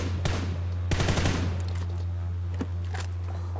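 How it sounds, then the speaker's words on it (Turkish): Shotgun blasts in PUBG New State during a ranked match, a few loud booming shots spaced apart with reverberant tails, close up over a steady low hum, with no talk. "Pompalı sesi değişir diye düşünüyorum ben."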